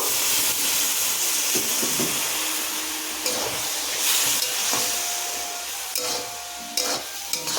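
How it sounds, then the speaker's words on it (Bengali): Semolina is stirred in a pan as water goes in, giving a loud, steady hiss and sizzle with scraping strokes of the spoon and a few brief clinks near the end. "একটু জল দেব একটু নাড়াচাড়া করতে থাকবো"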